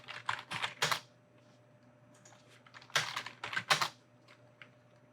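Computer keyboard keys clatter in two quick bursts of typing separated by a pause, with an Enter key pressed, close and fairly quiet in a calm room.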